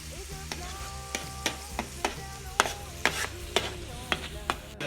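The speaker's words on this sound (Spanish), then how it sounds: "agregamos el vino inmediatamente que esté caliente para que se evapore el alcohol" Wine poured into a hot pan of seafood for paella, with a steady sizzle and repeated sharp clicks and scrapes of stirring in a regular rhythm, close and moderately quiet.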